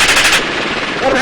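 Machine gun fire from a gunship helicopter in Las Vegas: a loud, dense burst of rapid shots that cuts off abruptly, with faint engine noise continuing after it.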